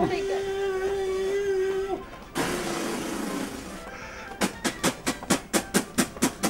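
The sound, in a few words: train engine starting to move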